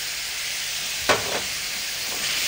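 A frying pan deglazed with white wine and water after browning flour, a sudden sharp sizzle that quickly settles into a steady, loud hiss of frying.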